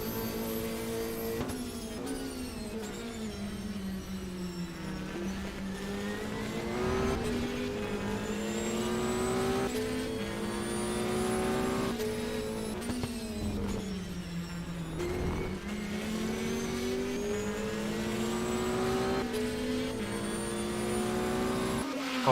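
A Ferrari race car heard onboard during the Daytona 6 Hours, its engine droning loud and steady throughout, pitch climbing through each gear and dropping sharply on upshifts and braking, with faint tire noise beneath.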